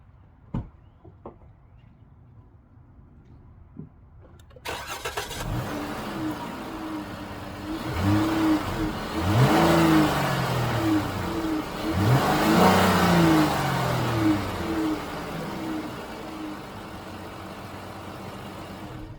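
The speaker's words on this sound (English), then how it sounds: "I'm going to crank, rev, and then I'll pause you guys for the 5 minutes" A 2012 Chrysler 200 engine cranks with a short starter whir, catches and settles into idle, then revs up and down in two rising and falling sweeps before easing back, recorded close by.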